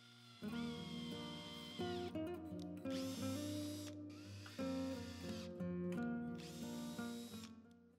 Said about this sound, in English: I could pre-drill and tap the holes in the stand